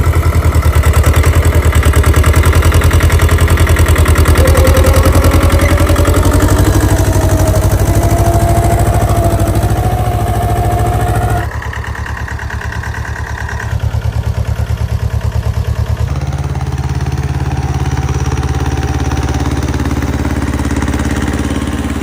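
A farm tractor's engine runs loud and close at a steady throb during wheat sowing, its pitch rising slightly as it revs, then briefly dropping before settling back into a continuous drone.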